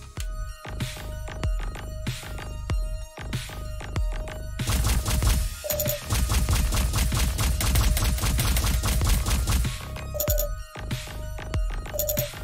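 Turrets firing in the space shooter Silverwing: dense, continuous rapid-fire bursts with crashing impacts, a sustained loud barrage that briefly breaks off and resumes, over a steady electronic tone.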